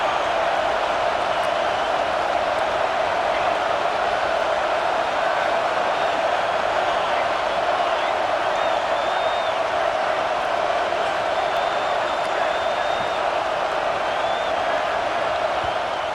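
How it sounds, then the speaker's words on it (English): A dense, steady roar of a large stadium crowd fills the whole stretch, loud and unbroken, with faint whistles and shouts rising above the wash. "listen to this crowd noise. This stadium is vibrating."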